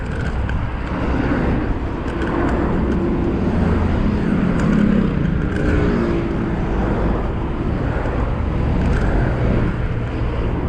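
Road traffic streams past a cyclist riding along the Seine in Paris on a breezy day: a continuous, loud wash of engine and tyre noise mixed with wind rush, with no breaks.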